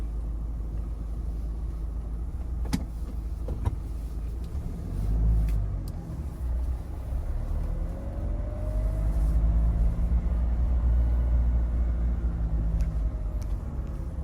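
A Mahindra Thar drives along a highway on a Mumbai road trip, giving a steady low engine and road rumble throughout with a few faint clicks, and no talk over it.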